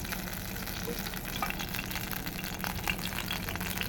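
Chillies sizzling in hot mustard oil in a kadai, a continuous crackling fry with sharp pops and spatters scattered throughout, close and fairly loud, with no talking.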